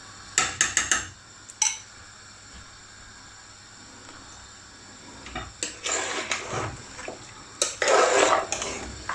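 Clattering metal scrapes and knocks of a utensil stirring garlic ginger paste in a cooking pot for lamb korahi, coming in short bursts with brief pauses, close and fairly loud.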